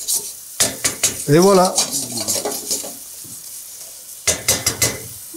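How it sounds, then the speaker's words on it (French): Rice toasting in a pan with gently sweated onions for a saffron risotto, stirred in a run of scraping strokes over a steady sizzle, with a short spoken phrase partway through. "J'ai fait suer les oignons très tranquillement, et en même temps, je toast mon riz."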